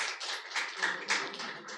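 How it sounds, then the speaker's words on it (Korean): Audience applause at a Korean panel discussion on eco-friendly ship fuels and marine bunkering residue, a short burst of fairly close, bright clapping with uneven pulses, no talk. "큰 박수 부탁드리겠습니다."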